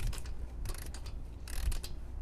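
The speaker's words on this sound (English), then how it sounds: "So it's gonna take a minute to torque them down." Torque wrench tightening car wheel lug nuts during a tire rotation, giving a few quiet ratcheting clicks and mechanical rattles at close range, faint and without talk.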